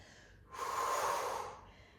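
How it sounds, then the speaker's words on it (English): One loud, close exhalation during a core stability exercise, a breathy rush lasting about a second that rises sharply and then fades, set against quiet background. "Breathing out and lowering back down."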